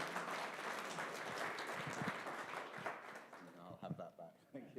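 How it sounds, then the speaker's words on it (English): Applause from a live event audience, a dense, steady wash of many hands clapping that thins out toward the end with a few scattered claps. "Let's give this man some applause."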